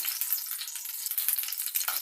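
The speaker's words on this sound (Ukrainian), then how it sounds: "І ось я так буду жарити по декілька хвилин на одній і на іншій стороні" Steady, bright sizzling of zucchini fritters frying in a hot pan, continuous crackle and spit throughout, close and fairly loud with no talking.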